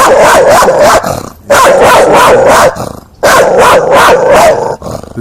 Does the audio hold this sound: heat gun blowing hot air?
no